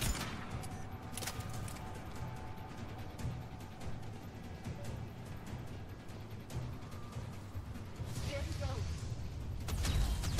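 Gunfire in the video game Mass Effect 3, a fairly quiet fusillade of rapid shots and bursts running through the whole stretch over a low rumbling background, with a voice faintly present.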